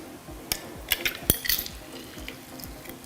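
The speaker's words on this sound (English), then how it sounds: "squeeze the juice from that same lemon into the mixture" Juice squeezed from a Meyer lemon into a salmon stuffing mixture, soft wet drips and small liquid spatters with a few sharper splashy ticks, close and fairly quiet.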